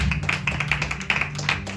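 A church congregation claps steadily in a quick, even rhythm, many hands close and fairly loud over a low background hum, with no voices.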